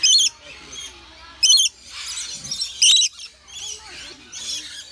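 A parrot at a bird park lets out sharp, shrill squawks in three short bursts, close by, between which people talk quietly.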